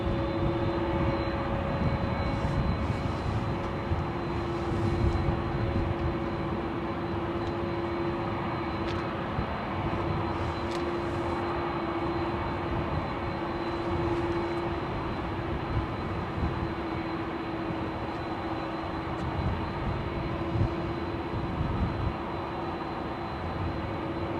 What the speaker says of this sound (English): That's the A330's engines you can hear.